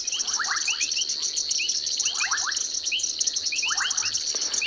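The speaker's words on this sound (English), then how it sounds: "sharp-nosed sand frog has also been calling" Frogs call in South Africa, including the sharp-nosed sand frog, in repeated short chirping bursts against a steady high insect drone, moderately distant and continuous, with no voices.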